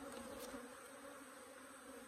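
Honey bees fill a hive arranged for winter with a soft, continuous droning hum, faint and steady throughout the short stretch with no voices.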